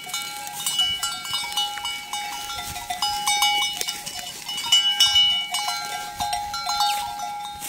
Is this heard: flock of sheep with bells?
yes